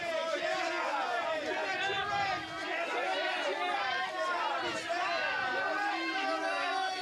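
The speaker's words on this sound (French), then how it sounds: "Sienna Miller est acclamée par les photographes." Photographers at the Cannes 2024 photocall for Horizon: An American Saga call out to Sienna Miller, a continuous dense babble of overlapping shouts and chatter, loud and crowded.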